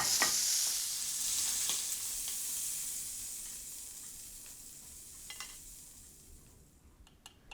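Steak fries in butter in a pan, a close bright sizzle that gradually fades, with a few soft clinks and stirring sounds toward the end.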